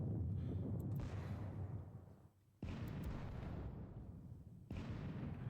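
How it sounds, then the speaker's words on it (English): Artillery fires in a Napoleonic wargame, three deep, rumbling booming blasts spaced a couple of seconds apart, each one swelling and then slowly fading. "Very ineffective artillery fire overall."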